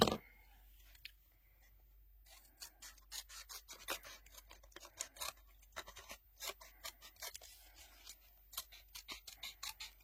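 Scissors snip through paper for a handmade advent calendar, a long run of crisp, rapid cuts that starts after a quiet pause and continues steadily and close up, with no talking.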